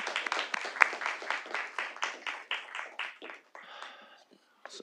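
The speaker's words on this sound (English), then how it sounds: "Let's give her a round of applause as well." Audience applause at a Little Rock city board of directors meeting, a burst of hand clapping from a modest crowd that fades out over a few seconds.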